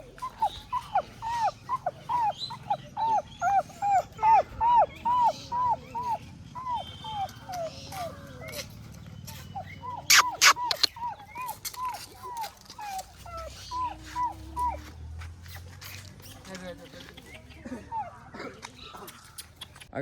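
Rescued puppies whimpering and yelping in repeated high whines, close by, with people talking and background rustling throughout.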